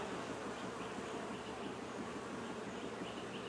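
A steady swarm-like hum of honey bees working an open hive, close and constant from start to end, with no talking.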